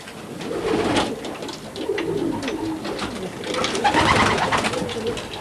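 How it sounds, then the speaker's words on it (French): Racing pigeons coo steadily inside a large pigeon loft belonging to a pigeon-racing club, many birds overlapping in a dense, close, continuous murmur of soft throaty calls. "pas mal de pigeons."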